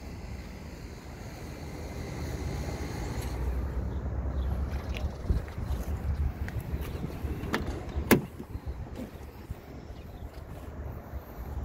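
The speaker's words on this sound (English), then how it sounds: "Door opening." The door of a 1982 Datsun 280ZX opens outdoors over wind noise, with a few sharp latch clicks and a louder clunk partway through, all fairly faint.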